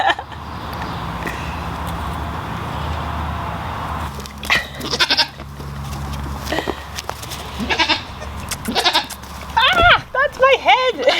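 Little baby goats bleat in a series of short, wavering cries, sparse at first and then clustering near the end, over a steady low background hum with some indistinct voices.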